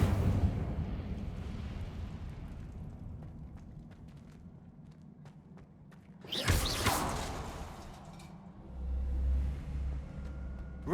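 A fiery whoosh from the Incendio spell in Hogwarts Legacy bursts loudly near the middle, sitting over a low ambient rumble and faint clicks, with a deep hum returning afterward.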